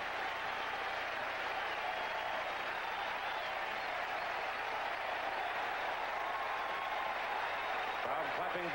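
Baseball crowd at a 1981 playoff game between the Brewers and Yankees applauding a strikeout, a sustained roar of clapping that fills the whole stretch without letup.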